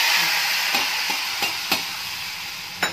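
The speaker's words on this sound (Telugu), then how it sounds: "ఇప్పుడు మనం తిరగమాత పెట్టేసుకుందాం." Tempering spices for Andhra-style mukkala pulusu sizzling in hot oil, a continuous loud hiss with several sharp clicks and taps of a stirring spoon against the pan.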